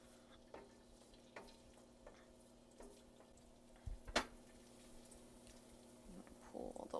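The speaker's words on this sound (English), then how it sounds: "we're gonna start browning the garlic, but not like super brown" Garlic browning gently in oil in a pan, a faint low sizzle punctuated by scattered taps and clicks of utensils, quiet and close with no talk.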